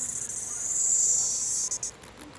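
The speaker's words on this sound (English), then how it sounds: "That's a giant, stupid cicada." A cicada in a garden gives a loud, steady high-pitched buzz that holds for most of the clip and then breaks into a few choppy stutters near the end.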